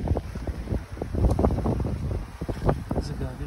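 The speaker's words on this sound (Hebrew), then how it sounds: "מזג האוויר די סוער" Stormy wind buffets the microphone on a beach at El Jadida, Morocco, a rough, gusting roar under a person talking throughout.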